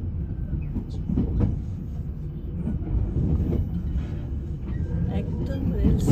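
A train rumbles past beside a railway station in Nagasaki, a steady, fairly loud rolling noise with a station announcement in Japanese playing over it.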